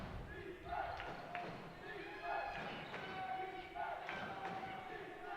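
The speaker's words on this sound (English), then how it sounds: "the Christopher Newport fans on this side of the court banging against the benches" Christopher Newport fans bang against the benches during an NCAA Division III women's basketball tournament game, a steady run of dull thuds and knocks under crowd noise and ongoing commentary.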